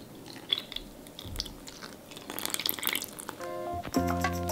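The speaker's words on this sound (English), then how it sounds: "Next, the milk goes in." Milk is poured into a batter mixture for Middle Eastern sweet dough puffs. A soft liquid splash and gurgle runs for a couple of seconds, quiet and close, with faint kitchen clatter around it.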